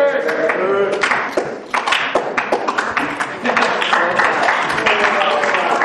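A crowd at an Alcoholics Anonymous speaker meeting claps steadily, a dense patter of hands that carries on across the whole stretch, mixed with a little murmuring.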